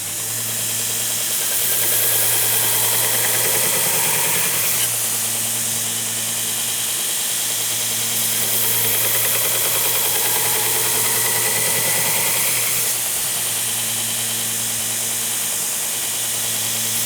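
Steady machine hum and grinding of a belt sander working a tile mosaic Damascus hunting knife blade to 120 grit, continuous and loud with slight swells.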